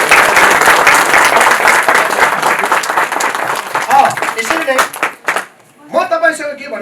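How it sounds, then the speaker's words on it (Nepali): An audience at a wedding ceremony applauds after the couple is declared husband and wife, a dense, loud wash of clapping that fades out as a voice begins speaking over the last few seconds. "हामी एकचोटि ताली बजाएर धन्यवाद दिन्छौँ"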